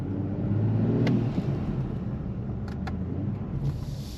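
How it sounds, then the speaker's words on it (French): A BMW Z4 M40i roadster with its B58 inline six-cylinder engine, a steady low exhaust rumble with a slight swell early on, heard close and continuous without any talking. "on entend quand même vachement le son du 6 cylindres"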